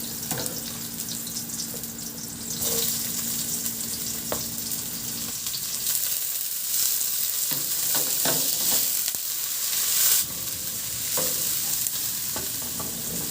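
Garlic, ginger and onion sauté in hot oil for a chicken dish, sizzling steadily. A spoon scrapes and stirs repeatedly throughout, with a few louder clatters against the pan.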